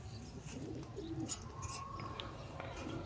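Sialkoti pigeons give soft, low coos, a few short calls against steady outdoor background noise, with faint chirps here and there and no talk.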